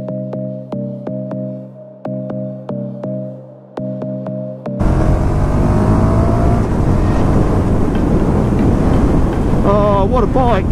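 A 2019 KTM 1290 Super Duke R motorcycle first sputters in short rhythmic engine pulses. It then bursts into a loud, sustained rush of engine and wind noise while underway, with rising engine tones near the end.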